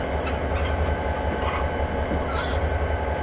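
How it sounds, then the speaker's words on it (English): A steady train rumble with high squealing brakes and metallic wheel noise, continuous and fairly loud throughout, from Train Simulator on the Cajon Pass route. "you can actually hear the brakes going on that train, on this train."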